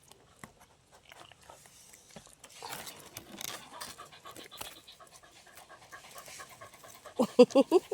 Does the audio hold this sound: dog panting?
yes